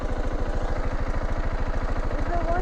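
A dirt motorcycle engine thumps in a fast, even pulsing rhythm while riding a hill climb, loud and close throughout.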